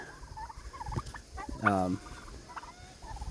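A pastured turkey gobbles once with a rapid, warbling burst in a garden, surrounded by softer clucks and rustling nearby.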